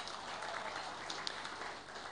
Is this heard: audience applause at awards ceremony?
yes